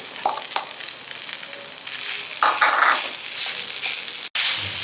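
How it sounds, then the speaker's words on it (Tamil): Cooked rice being stirred and tossed in a pan over medium heat for sesame rice, with close scraping and spoon clatter over a light sizzle, a brief dropout near the end, no voices. "மிதமான தீயில வச்சு நல்லா வந்து கலந்து விட்டுக்கலாம்."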